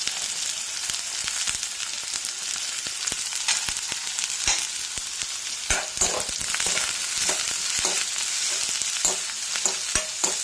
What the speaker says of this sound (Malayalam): കടുക് പൊട്ടി സവാള അരിഞ്ഞത് വഴറ്റിയെടുക്കാൻ പോവുകയാണ്.